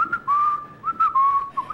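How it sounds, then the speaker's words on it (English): A person whistling a short tune at close range: a few clear, sustained pure tones with small slides between notes, loud and alone, lasting under two seconds. "Okay, give us a whistle."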